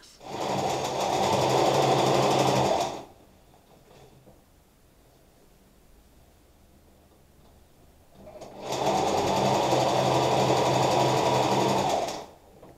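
A domestic sewing machine stitches a folded-over hem at the waist of a women's trouser in two loud, steady bursts of about three seconds each, separated by a quiet pause of roughly five seconds.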